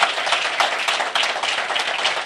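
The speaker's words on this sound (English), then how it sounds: "Can we give him another round of applause" An audience claps in a continuous burst of applause, dense and fairly loud, with individual claps blurring together at a government meeting about a regional medical center.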